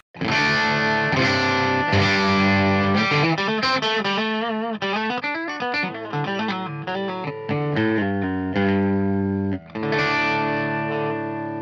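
A distorted electric guitar plugged straight into an audio interface plays a continuous phrase of chords and notes, dry and direct with effects shimmer, loud and steady with no talking.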